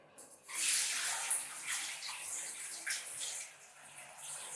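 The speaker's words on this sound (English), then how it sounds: "Just check it again and drain the water completely." Water rushes and gurgles steadily, draining from a tub nearby with a hissy, splashing texture that swells and dips without stopping.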